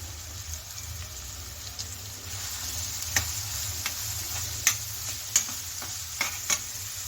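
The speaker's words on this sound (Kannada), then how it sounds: "ಈರುಳ್ಳಿ ಚೆನ್ನಾಗಿ ಗೋಲ್ಡನ್ ಬ್ರೌನ್ ಬರೋವರೆಗೂ ನಾವು ಫ್ರೈ ಮಾಡ್ಕೋಬೇಕಾಗುತ್ತೆ" Onions frying in hot oil toward golden brown for an Andhra-style egg gravy, a steady low sizzle with occasional sharp ticks and clinks of stirring, close and moderately loud with no voices.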